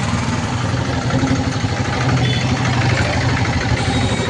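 A tractor engine rumbles steadily close by in a busy market in Shapar Veraval, a constant low mechanical drone that holds level throughout with no speech over it.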